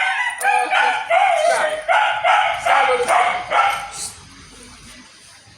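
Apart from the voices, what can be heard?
dogs barking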